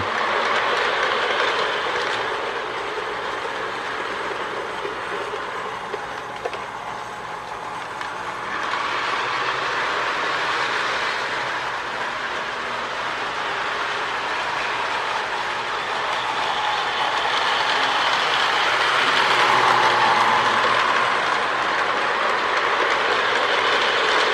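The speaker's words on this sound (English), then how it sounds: "the GP9 runs really well" A Lionel MPC GP9 diesel in Erie Lackawanna livery runs steadily along model track as part of a work train, with a continuous rolling hum and a faint clatter that swells slightly toward the end, and no voices.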